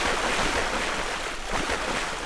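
Water splashes and churns in the video game Black Mesa, a broad continuous wash of noise lasting a couple of seconds with slight surges, no talk.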